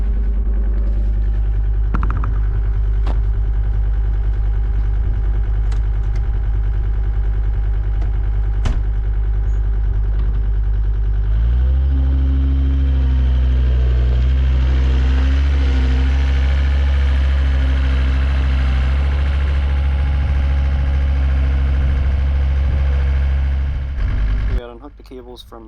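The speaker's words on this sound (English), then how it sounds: "I'll take the skid steer and pick up the back gate" A skid steer engine runs on a farm field during earlage chopping, a close, steady low drone that rises in pitch and load partway through, then cuts off near the end, with occasional clanks.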